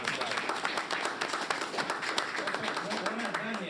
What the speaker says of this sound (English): I'm gonna keep you clapping, okay?